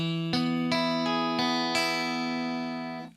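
A Stratocaster in Nashville tuning, its four lowest strings super light gauge and tuned an octave up, strums a few bright, shimmering chords in a quick sequence that ring out and fade near the end.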